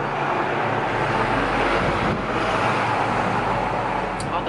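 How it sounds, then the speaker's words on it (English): Cars on a nearby road roll past in a continuous loud rush of traffic noise, with wind buffeting the microphone and no pause in the roar. "all the cars keep going by, so it's really loud"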